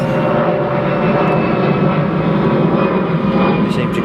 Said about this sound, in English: The planes are about every 30 seconds